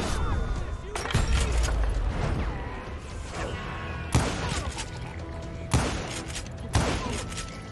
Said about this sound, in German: Da kommt der Schuss.